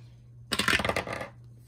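Dice roll onto a hard surface in a quick burst of hard clattering taps lasting under a second, close and fairly loud over a low steady hum.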